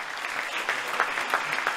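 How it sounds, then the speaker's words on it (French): Audience at a French campaign launch rally clapping steadily, a dense, even patter of many hands at moderate volume, brief and with no voices over it. "moi je vous demande d'applaudir Jean-Paul Lecoq"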